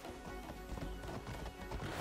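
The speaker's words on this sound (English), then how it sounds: "Oh, my horsey, come here," A video-game horse whinnies over steady clip-clop hoofbeats, sounding close and fairly loud throughout the short stretch.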